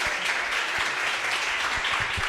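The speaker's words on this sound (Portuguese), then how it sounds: "Vamos pedir para vocês aplaudirem." Studio audience at a live math review class clapping in steady applause, dense and continuous throughout with a few louder claps standing out.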